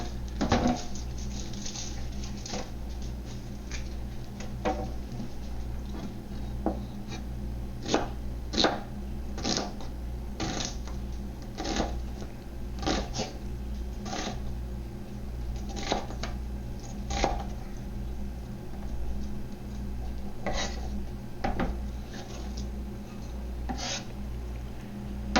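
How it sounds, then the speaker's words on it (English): Knife slicing a quarter onion into thin slices on a cutting board, with sharp, irregular cuts spread over about 25 seconds, near and moderately loud against a steady low kitchen hum. "I have a quarter of an onion. I'm going to slice it,"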